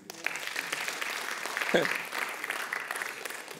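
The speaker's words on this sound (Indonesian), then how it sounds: "Berikan tepuk tangan." A church congregation claps during an Indonesian-language Commitment Sunday service, dense steady applause rising quickly at the start and holding with a slight swell midway, close and full.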